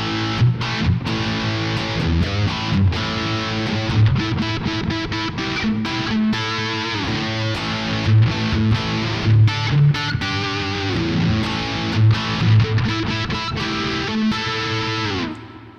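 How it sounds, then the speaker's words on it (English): Guitar played through a Korg Pandora PX4 multi-effects unit, a dense rock tone with heavy reverb and distortion, steady chords and picked notes sounding loud and continuous without talk. "Very nice basic rock sound with tons of reverb."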